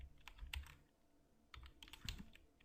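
Fingers typing HTML tags on a computer keyboard, quick bursts of close, quiet key clicks with a short pause between two clusters of strokes.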